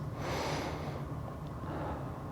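A deep, breathy inhale during a beginner Krav Maga warm-up stretching class, heard close and soft as one airy rush that fades away.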